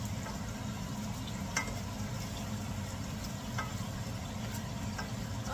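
Meatballs fry in an overcrowded pan, giving a steady, dense sizzle with occasional small pops and crackles throughout, close and even in level, with no talking.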